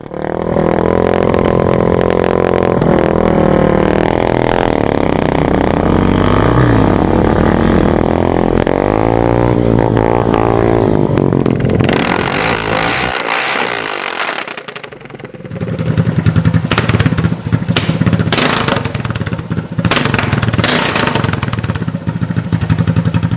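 A 1976 Yamaha TT500 dirt bike runs loud and close, its single-cylinder engine revving and droning steadily, then dropping off briefly before surging back with strong throttle as it is ridden.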